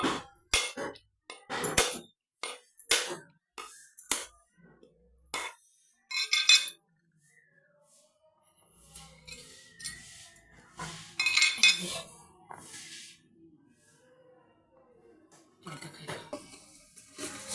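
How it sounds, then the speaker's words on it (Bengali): A coconut is cracked open in a kitchen while cooking prawn malai curry, with a series of sharp hard knocks in quick succession, followed by quieter clinks and scraping. "এটা আমি ফাটিয়ে নিই, নারকেলটা দিয়ে পিসবো"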